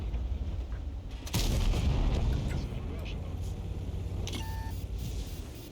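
A heavy M48A5 Patton tank cannon blast in a video game booms suddenly, followed by a rumbling tail, a brief electronic beep and the steady drone of an engine.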